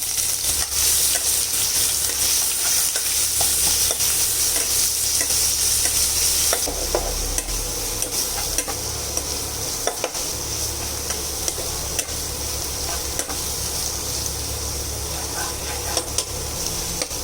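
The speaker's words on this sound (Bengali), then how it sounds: "এখন পেঁয়াজটাকে খুব ভালো করে কষিয়ে নেবো" Onions sauté in mustard oil with a bay leaf for koi fish curry, giving a loud, continuous close sizzle with occasional scraping stirs and no talking.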